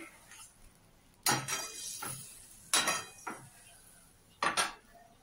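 Cashew paste being stirred in a pan over medium heat while cooking kaju katla, with a few sharp metallic scrapes and clinks of a spoon against the pan separated by quiet pauses.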